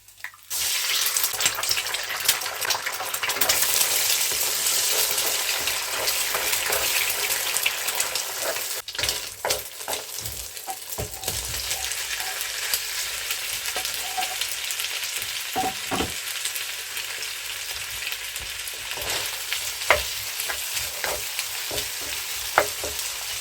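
Garlic sizzling in hot oil in a wok for stir-fried yellow noodles, a steady loud crackling fry with stirring scrapes throughout, no talking.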